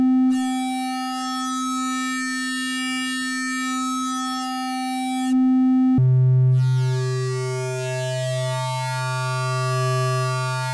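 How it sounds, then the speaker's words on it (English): An Arturia MiniBrute 2 triangle wave runs through its metalizer wave folder, giving a steady bright, buzzy synth tone that jumps to a lower pitch midway and continues alone. "the metalizer is something that only works on the triangle wave, and it's something that is unique to the MiniBrute. It is sort of a folder, like a wave shaper."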